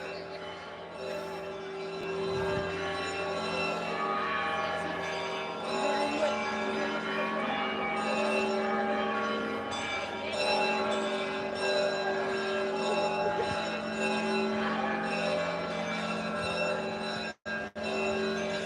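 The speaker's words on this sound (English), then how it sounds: "Why are the bells ringing at the church?" Church bells in central Moscow peal continuously and loudly outdoors, their sustained overlapping tones ringing steadily throughout, with faint street ambience beneath.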